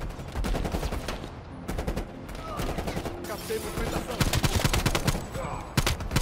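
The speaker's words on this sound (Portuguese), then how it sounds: "É muito tiro!" Rapid bursts of Call of Duty: Black Ops Cold War gunfire, overlapping automatic shots and single cracks firing almost continuously, loud and chaotic.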